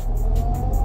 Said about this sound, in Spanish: voy a girar la llave y acelero